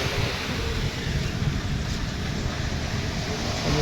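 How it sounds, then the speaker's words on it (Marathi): Sea waves at Dadar Chowpatty beach in Mumbai make a continuous broad roar of surf, mixed with wind rushing over the microphone. "समुद्राचा लाटा बघा"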